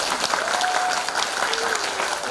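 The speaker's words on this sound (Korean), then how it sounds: "우리 그 문예대학 졸업하시는 분들 박수 한번 쳐주시기 바랍니다" Brief burst of indoor applause at a Korean literary awards and graduation ceremony, an audience clapping steadily and fairly close for a couple of seconds.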